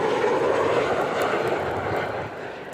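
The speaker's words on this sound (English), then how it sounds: "The passengers taking off on this Delta Airlines flight are some of the lucky ones." A Delta Airlines jet takes off in snow at Rochester International Airport, its engine roar loud, broad and steady before easing slightly near the end, with no voices.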